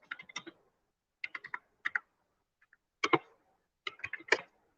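Typing a terminal command on a computer keyboard during a React Native development workshop, quick bursts of crisp key clicks separated by short pauses, close and clean against silence.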